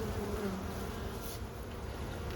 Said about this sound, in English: keep the hives as comfortable as possible for the bees